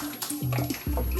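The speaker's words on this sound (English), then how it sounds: "Squirt that Italian dressing on there." Italian dressing squirts from a bottle onto raw chicken in a quick series of short, wet spurts and sputters, close and fairly quiet.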